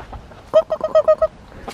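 A pet chicken clucks in a quick run of about six loud, close, evenly spaced calls, with quieter background sounds before and after.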